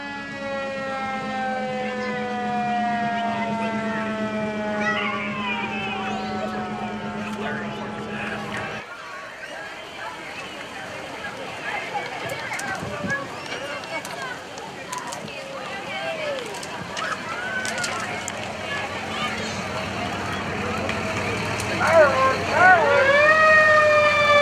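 An old fire engine's siren wails in a small-town parade, rising and falling through long sweeping tones that cut off, then street noise and crowd sounds follow before another rising siren swell near the end.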